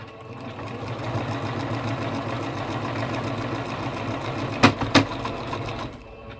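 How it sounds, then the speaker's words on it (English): A sewing machine runs steadily while stitching down a rope rug, a continuous mechanical whir with a fast rhythmic needle chatter, ending with two sharp clacks near the end as it stops. "let's see if we can finish sewing this down"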